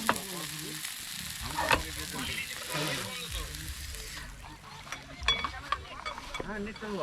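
Aloo chokha being cooked at a campsite beside a dam: oil sizzles and fries as a utensil stirs and scrapes the pan, with voices talking over the cooking.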